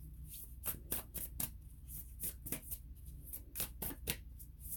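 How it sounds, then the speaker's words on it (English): A Sufi Wisdom Oracle card deck is shuffled by hand in soft, rapid bursts of riffling and slapping cards, repeated in an uneven rhythm. The sound is close and quiet, with no talking over it. "And then we're going to get a card from the Sufi Wisdom Oracle."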